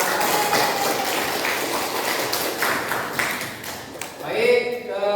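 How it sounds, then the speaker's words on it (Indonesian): A class of eleventh-grade students claps together in a classroom, a loose, moderately loud patter of hands that carries on for several seconds before fading as a voice comes in near the end. "Oke, tepuk tangan untuk kita semua."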